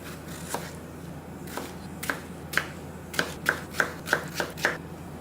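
A knife cuts through peeled cucumbers on a cutting board, about a dozen crisp chopping taps that start sparse and then speed up into a quicker, fairly regular run, close and with no talk.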